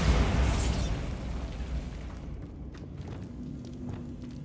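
A Bombarda blasting spell goes off in the Hogwarts Legacy game with a loud booming explosion at the start that decays into rumbling debris, followed by faint footsteps and light clatter.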